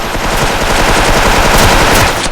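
Rapid automatic machine gun fire in a shooter video game, loud and close, a dense continuous burst of shots with no pause and no voices over it.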